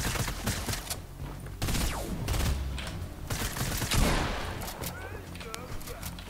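Rapid automatic fire from a drum gun in the video game Fortnite, several bursts of dense gunfire with short gaps, mixed with other game sounds.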